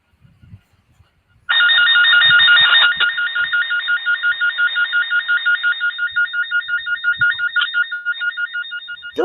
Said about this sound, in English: No, it sounds like an alarm.